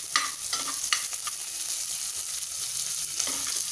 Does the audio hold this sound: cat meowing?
no